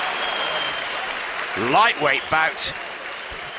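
Boxing crowd at a lightweight bout applauding and cheering after a big right hook, steady crowd noise throughout with a commentator talking over it.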